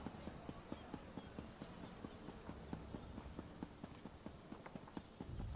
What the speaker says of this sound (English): I just want to make my pony faster because it's slower than I am right now.